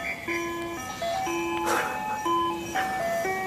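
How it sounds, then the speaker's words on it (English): Ice cream truck jingle playing on a residential street, a steady tinkling melody of clear repeating notes, moderately distant, with faint background noise and no talk over it. "It's a legit ice cream truck."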